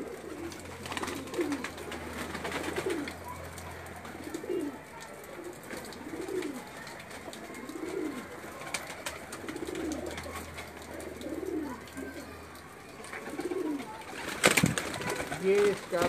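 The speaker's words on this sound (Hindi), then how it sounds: "ये 42 नंबर कबूतर है जी।" Breeder pigeons coo in a loft, a repeated rhythmic rolling coo recurring every second or two, close, with someone talking at times over the birds.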